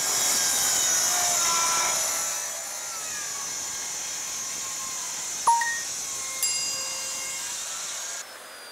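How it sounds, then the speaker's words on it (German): A circular saw whines at a high steady pitch while cutting a curve through an oak board, the tone shifting under load before winding down near the end. "Jetzt will ich den Bogen sägen."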